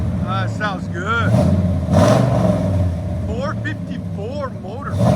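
A 454 big block V8 in a K2500 truck with headers and a Flowmaster 40 Series exhaust revs in repeated rising and falling bursts, loud and close, with talk over parts of it.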